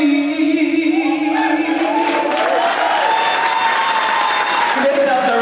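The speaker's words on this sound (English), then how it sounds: "Give yourselves a round of applause." Audience applause at a benefit concert for Jamaica, a steady wash of clapping with some crowd noise, mixed under sustained musical tones and a voice that carries through the whole stretch.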